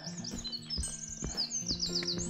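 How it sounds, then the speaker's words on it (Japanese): Small birds chirp and tweet on a sunny morning at a mountain trailhead near Akadake in Hokkaido, with bright quick calls repeating close by over an open background. "鳥もご機嫌さんやな。"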